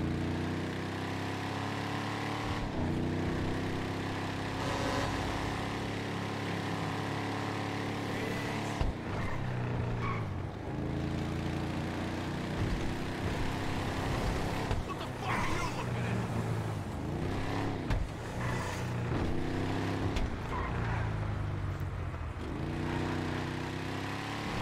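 A Slamtruck in GTA 5, towing a 1965 Chevy C10, does burnouts: a loud, sustained engine drone that surges and dips with repeated revving, steady and close throughout.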